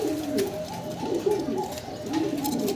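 A pair of white Shouking pigeons coo close by in repeated rolling phrases, a steady soft burbling that carries on without a break and with no talk over it.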